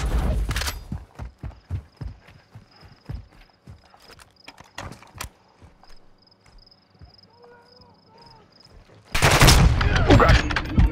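Gunfire in a Call of Duty mission comes as a run of sharp, separate shots early on, then fades to scattered cracks before a loud burst of noise near the end.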